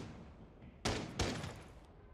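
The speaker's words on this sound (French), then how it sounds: "Il y a eu beaucoup de coups de feu échangés." Gunfire in Rainbow Six Siege during a Six Invitational 2020 open qualifier match: two loud bursts of rapid shots a fraction of a second apart, standing alone over quiet game ambience.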